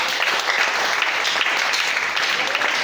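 A church congregation claps and cheers in a dense, continuous wash of applause, loud and sustained throughout, with voices mixed into the crowd.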